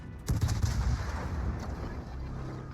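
Warship guns fire high-explosive shells in World of Warships, a sharp booming salvo early on followed by a rumbling, sustained decay with no talk.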